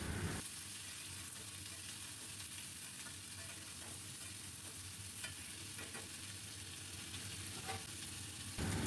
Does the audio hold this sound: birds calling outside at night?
no